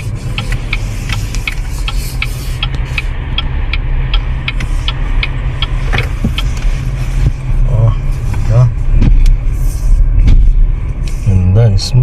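BYD Sealion 6 DM-i driving on a road, a steady low road rumble and faint engine hum running continuously, with people talking over it.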